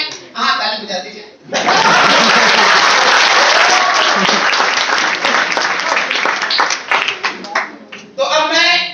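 A comedy show audience bursts into loud, close applause that swells and holds for several seconds and then thins into scattered claps. Talk is heard briefly before and after the clapping.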